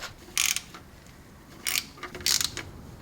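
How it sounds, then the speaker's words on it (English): A ratchet clicks in quick bursts while tightening gearbox bolts on a Land Cruiser Prado J150, with three short clusters of close ratcheting separated by brief pauses. "I'm gonna just tighten these bolts by hand so I don't f it up"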